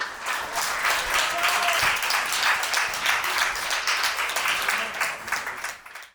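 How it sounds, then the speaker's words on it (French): Audience at a poetry and music performance at UQAM applauding warmly, a dense, steady wash of clapping from many hands that holds for several seconds, then tapers off and fades at the end. "Applaudissons-les chaleureusement."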